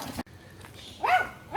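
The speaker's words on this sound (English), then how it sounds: "Seven dogs is too many, especially when they're all crazy." A pack of seven excitable dogs out on a walk gives a couple of short, faint yelps and whimpers, brief high cries rising from a low background hum, with no talking.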